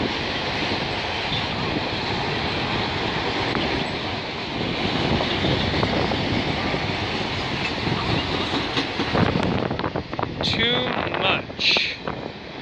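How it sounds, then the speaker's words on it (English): Strong gusty wind buffets the microphone outdoors at a railway junction, a loud continuous rush with a passing freight train rumbling and clattering underneath, and a voice speaking briefly near the end. "Oh god, it's really windy out today."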